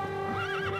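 A horse whinnies in the medieval strategy video game The Kings Crusade, giving one short, bright, wavering neigh over a faint rumble of hooves, with no voices.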